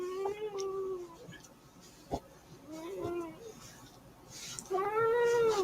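A cat meows several times in a drawn-out, whiny way in a house, with a louder, closer cry near the end, and a person's voice is faintly heard between the calls.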